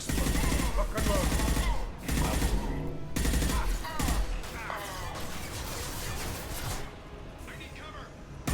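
Bursts of rapid gunfire in Mass Effect 2 aimed at a loose fuel tank, loud repeated volleys broken by brief pauses and then fading, with voices talking over the shooting.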